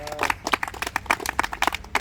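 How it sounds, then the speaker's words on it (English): An audience at a community volunteer gathering gives a round of applause: dense, fairly close clapping with quick, slightly irregular strikes, carrying steadily on its own without talk. "Give him a round of applause, please."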